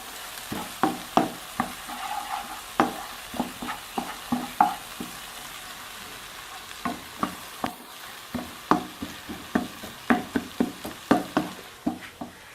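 White onion frying in a pan during preparation of a spicy mashed turnip dish, heard as a soft hiss beneath a run of sharp, rhythmic clacks of a utensil striking and stirring in the pan, fairly close.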